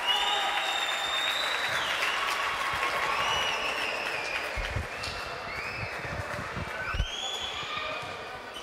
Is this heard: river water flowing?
no